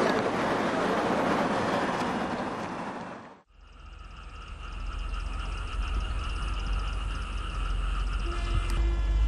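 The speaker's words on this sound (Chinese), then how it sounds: "九点到，九点的火车。" A train rumbles past nearby, loud and continuous, with a brief dip in noise before the rolling clatter of the railcars resumes and carries on steadily.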